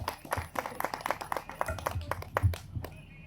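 An audience at a song program in Shivamogga claps, a quiet irregular burst of hand claps from a small crowd, some nearer and some farther, with faint murmuring under it.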